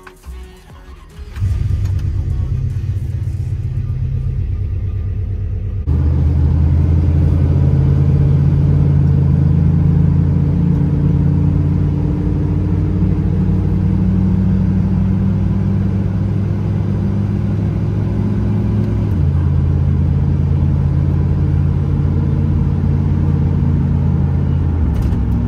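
A car fitted with a newly installed transmission drives down the road, with a steady, loud engine rumble throughout after a quiet start and a step up in drone around six seconds, with no voices.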